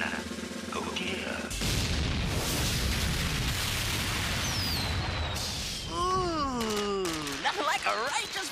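A loud, rushing burst of fireworks with a long falling whistle, then warbling, sweeping tones toward the end.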